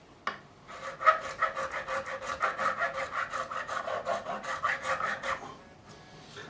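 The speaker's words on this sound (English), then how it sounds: "You'll notice I do go over to the other side just to finish off this deburring process." A metal file rasps across the fret ends of an ESP E-II Eclipse electric guitar to deburr them, producing a quick, even run of close scraping strokes that stops abruptly.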